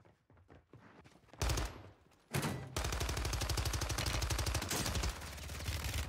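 An MX9 submachine gun fires in Warzone 3 on Rebirth Island, with two short bursts followed by a long, sustained rapid stream of close, loud shots.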